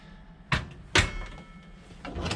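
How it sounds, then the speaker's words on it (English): Soft-close galley drawers with latches on a Sealine C335 sportscruiser yacht, giving two distinct thuds of drawers shutting, followed by a softer sliding rumble. "We've got these nice soft closed drawers"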